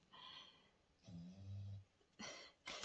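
Slow, rumbling snores come from a sleeper, two or three drawn-out breaths with a low vibrating tone, close by and fairly quiet against a still room.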